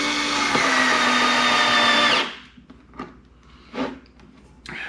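A Milwaukee M12 cordless screwdriver drives a screw into hickory with a loud, steady motor whine for about two seconds, then stops abruptly, leaving faint handling noises.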